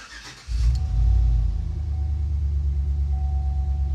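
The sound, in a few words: GMC truck transfer case noise after 4L80 transmission swap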